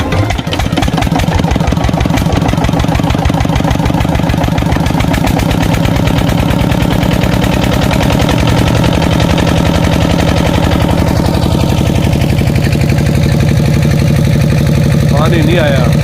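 A 27-horsepower engine driving a tube-well pump in a corn field, running loud and steady with a rapid, chugging mechanical beat throughout.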